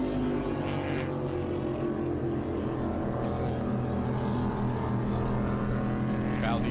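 P1 SuperStock powerboats racing at Madison in 2011, a loud continuous engine roar with steady droning tones and no letup, heard under commentary.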